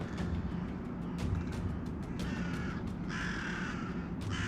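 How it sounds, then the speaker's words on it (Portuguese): Crows cawing in mountain wilderness near a kill, several harsh repeated caws over a continuous rushing background, moderately close. "Os corvos chegam quase imediatamente."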